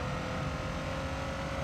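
A race car engine in Gran Turismo 3 drones steadily at full throttle, a loud, continuous motor roar with no talking over it.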